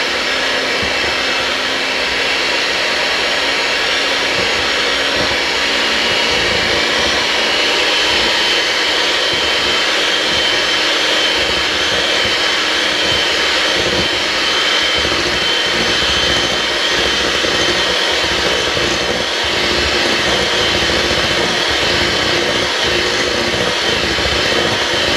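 An electric mixer running on high whips chocolate mousse, a loud, steady whirring drone that holds constant throughout with no talk over it.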